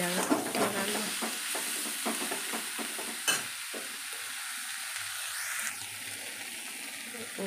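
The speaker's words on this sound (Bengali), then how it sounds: "দেখো এবার এটা একটু নেড়ে নেব, হয়ে যাবে রান্না।" Red amaranth greens are stirred in a cooking pan, with a soft sizzle and a few scraping strokes near the start, then a quieter simmer.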